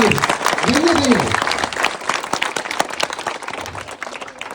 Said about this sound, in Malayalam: അപ്പൊ വലിയൊരു കൈയടി, ഭയങ്കര വലിയൊരു കൈയടി, വലിയ കൈയടി